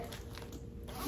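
A short, quiet jacket zipper pull, a brief rasping slide heard close up with no talking.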